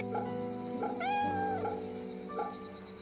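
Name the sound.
cat meowing while being petted, in video game Fate/Samurai Remnant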